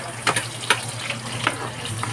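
Garlic frying in hot oil for adobo, a close bubbling crackle with a few sharper spits and pops breaking through the steady sizzle.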